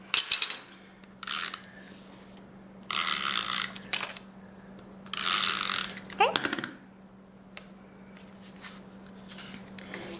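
A snail adhesive tape runner used in card making gives repeated close ratcheting clicks and short bursts of mechanical whirring, with brief pauses between.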